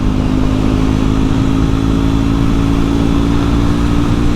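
A Triumph Scrambler 400x motorcycle engine drones at highway speed, a dense, constant mid-pitched roar with heavy wind rush, loud and unbroken throughout with no voices.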